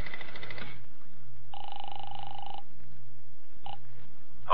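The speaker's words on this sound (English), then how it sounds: "I'll phone the hotel." Old-time radio telephone sound effect, a few short tonal beeps and buzzes as a call is placed to a hotel, fairly quiet and alone.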